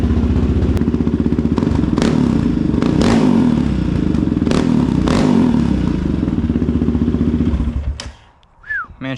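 Quad four-wheeler ATV engine left running after a wash, a steady, loud, rumbling idle with some clatter for about eight seconds before it drops off near the end.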